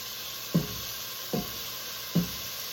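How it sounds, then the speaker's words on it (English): Breakfast pizza filling being stirred and cooked in a pan, three evenly spaced scraping knocks of a utensil over a soft steady sizzle. "give this a good stir and let it cook"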